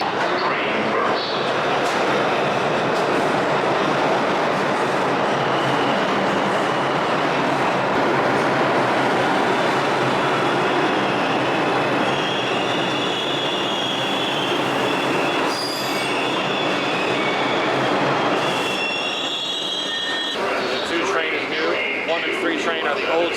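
Old New York City subway cars roll through a station with loud, sustained wheel squeal and rumbling, rising and shifting in pitch over about twenty seconds of continuous rail noise.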